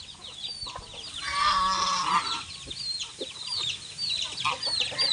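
Rhode Island chickens cluck and squawk in a busy farmyard chorus, with one louder, drawn-out call standing out near the start amid the ongoing clucking.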